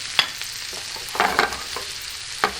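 Shallots fry in a pan with a steady, close sizzle, broken by a few brief stirring scrapes and clinks.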